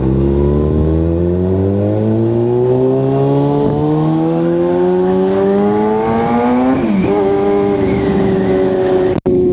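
A car engine turns over and catches after a doubtful start, then revs steadily upward, its loud harmonic drone climbing in pitch for several seconds before a brief dip and settling into a high idle, close and continuous.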